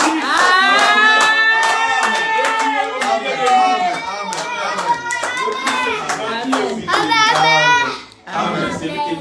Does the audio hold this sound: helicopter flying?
no